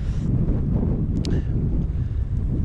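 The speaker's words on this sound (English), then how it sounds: "But the wind is really kicked up." Strong wind buffets the microphone beside a Colorado trout river, a steady loud low rumble filling the whole clip with no talking.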